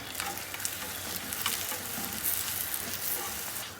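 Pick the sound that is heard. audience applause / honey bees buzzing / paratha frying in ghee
paratha frying in ghee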